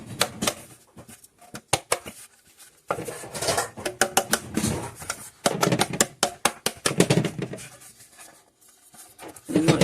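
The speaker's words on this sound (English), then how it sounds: "And you shake that around to coat your pan" Flour shaken around inside a cake pan makes an irregular patter of close, dry rattling and tapping in bursts, with brief quiet gaps between shakes.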